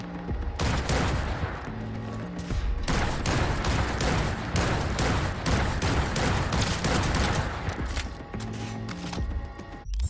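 Rapid gunfire in the Cyberpunk 2077 video game rattles in dense, loud bursts, the volleys overlapping with brief gaps between them throughout.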